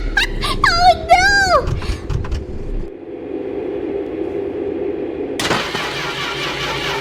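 A car engine struggles to start in the My Winter Car video game, a rough, strained churn that runs steadily before a sudden louder burst near the end, following an excited voice exclaiming at the start.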